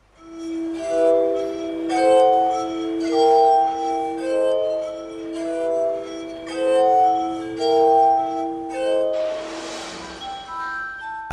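Benjamin Franklin's glass armonica, an instrument of spinning glass bowls driven by a pedal, plays a slow melody of sustained, pure ringing tones that overlap and shimmer steadily, with no talk.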